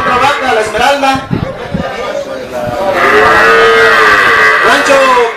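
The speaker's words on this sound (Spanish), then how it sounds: "Rancho Los Manantiales también participa con otra vaca, La Esmeralda." Dairy cows moo repeatedly at a dairy cow competition during a coffee fair in Atoyac, their calls rising into a long sustained bellow, with a man announcing over a PA throughout.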